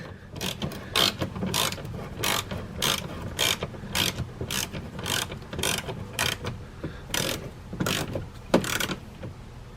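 A hand ratchet tightens plastic-holding bumper bolts on a 2015-or-later Dodge Challenger, making quick, steady clicking in rapid rhythmic strokes. The clicks are close and moderately loud with no talking.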